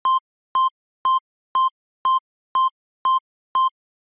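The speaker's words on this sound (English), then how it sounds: "That's basically just a simple triangle wave in Serum, one of my favorite synths." A simple triangle wave from the Serum synthesizer plays as eight short, identical tones at a steady, even pulse, each clean and isolated against silence.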